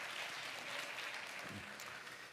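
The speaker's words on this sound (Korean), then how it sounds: "우리 수고한 자매님에게 박수 한번 해주시기 바랍니다" A church congregation at a youth worship service gives warm, continuous applause, a dense wash of clapping at an even level that tapers slightly at the close.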